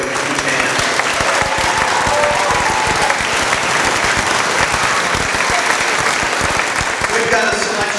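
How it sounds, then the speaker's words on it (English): Dense, steady applause from a large audience at a sixth grade school band concert, many hands clapping loudly and evenly for the whole stretch with a faint murmur of voices underneath. "Let's give them a huge hand."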